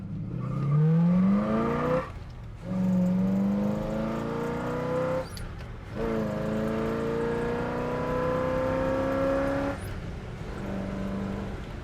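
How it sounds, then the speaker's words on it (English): A 1967 Pontiac GTO engine revs hard and climbs through the gears, each rising pull broken by a brief shift gap, loud and close throughout with steady road noise underneath. "We're gonna give it a little bit of gas and rip it through the gears here."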